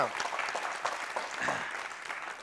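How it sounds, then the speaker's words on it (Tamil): Applause from a studio audience on a Tamil television program, a steady wash of many hands clapping at moderate level for a few seconds with no voices on top. "எல்லாரும் ஒரு கைத்தட்டு."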